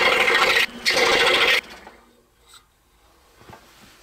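Saw cutting the top profile of a wooden toy flatbed truck chassis, two loud close bursts of rough buzzing cutting broken by a short pause, then quiet with a few faint taps and knocks.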